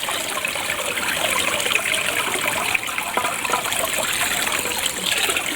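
Water splashing and trickling steadily from a small garden waterfall as a candle holder is filled, a continuous close wash of pouring liquid with no talk.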